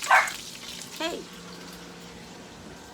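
A new puppy gives a couple of short, high yelping barks about a second apart, close by and fairly loud, over a faint running-water hiss in the room.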